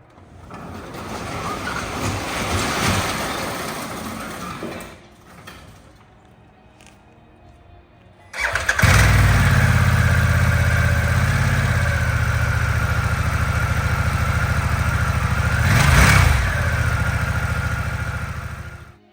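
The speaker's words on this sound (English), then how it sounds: "This is our brand new limited edition Pan America Special." A Harley-Davidson Pan America Special motorcycle engine runs at first, cuts off into near quiet, then catches at about eight seconds into a loud, close, steady idle with one brief rev swelling near sixteen seconds.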